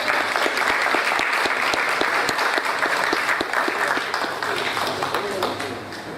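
An audience at a formal ceremony gives a burst of dense, steady clapping that lasts several seconds and then begins to thin out, with some speech mixed in under the applause.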